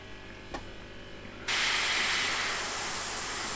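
A Bambi BB50D air compressor, a large-tank unit with two motors, switches on abruptly after a quiet hum and runs with a steady, loud, even hiss.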